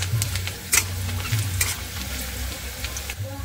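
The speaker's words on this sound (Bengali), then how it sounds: "তেলের উপরে কাঁচা পেঁয়াজ দিয়ে দিয়েছি, পেঁয়াজটা ভেজে নেব। পেঁয়াজটা বাদামি কালার করে ভেজে নেব।" Raw onions fry in oil until brown, making a close, steady sizzle. Several sharp scraping stirs break through the sizzle, with a low hum running underneath.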